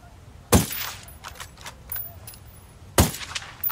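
Gunfire in Ghost Recon Wildlands, two loud sharp shots about two and a half seconds apart, with fainter clicks and clatter between them.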